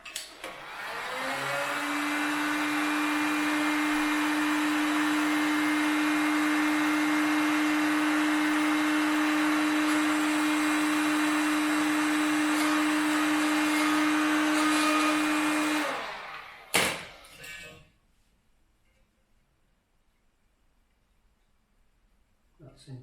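Heat gun warming a sticker on a Crypton Motorscope 335 during repair, a steady loud blowing whir with a constant tonal whine running about fifteen seconds, then cutting off abruptly with a couple of clicks before near silence.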